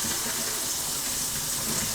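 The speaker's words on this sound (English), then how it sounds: "Turn the cold water on, let it run for a minute before you strain your potatoes" Cold water runs from a kitchen tap into a sink while potatoes are strained, a loud, steady, broadband gush that continues unbroken from start to finish with no talking.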